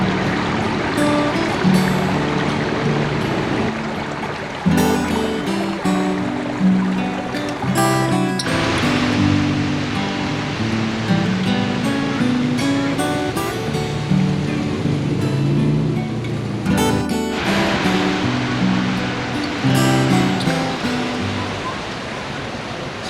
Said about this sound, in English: They've got little creeks and rivers running down.